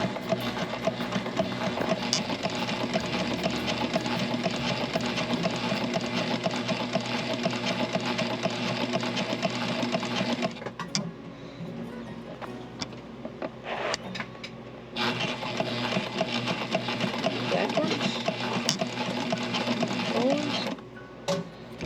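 Sailrite sewing machine stitching canvas corners aboard a boat, a steady loud mechanical whirr of rapid needle strokes running for about ten seconds, a brief pause, then resuming in a second long burst.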